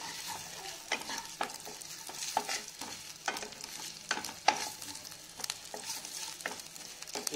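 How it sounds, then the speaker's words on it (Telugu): Cloves fry in a pan for chicken donne biryani, a quiet steady sizzle broken by a string of clicks and taps from a utensil, close by, with no voice. "ఇలా దీన్ని ఫ్రై చేసుకోవాలి"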